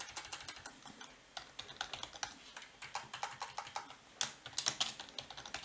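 Code being typed on a computer keyboard: close, rapid key clicks come in uneven bursts with short pauses between them, and no one speaks.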